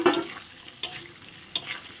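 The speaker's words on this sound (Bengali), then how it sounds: "মশলাটা দিয়ে এখন ভেজে রাখা আলুগুলো দিয়ে দেব, একবারে মশলার সঙ্গে কষানো হয়ে যাবে।" Fried potatoes are stirred into a thick masala for Kashmiri aloo paneer, giving a soft steady sizzle broken by two sharp scraping clatters of the spoon against the pan, with no talk.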